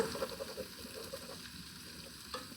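Sausage fries in butter in a pan for a jambalaya, a soft, fairly quiet sizzle and crackle running steadily with a few faint clicks of turning or stirring.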